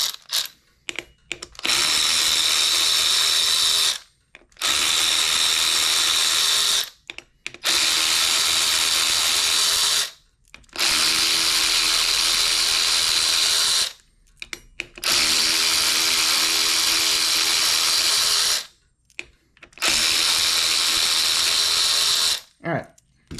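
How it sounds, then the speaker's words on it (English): Power ratchet spinning off the stock brake rotor bolts on an Inmotion RS electric unicycle wheel, in six loud sustained bursts of a few seconds each, separated by short pauses. "I don't want the power ratchet stripping them out"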